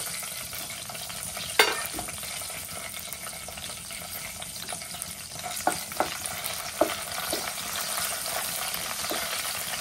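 Four or five green chillies fry in a pan with a continuous crackling sizzle and occasional sharp spatters and pops, heard close and without talk.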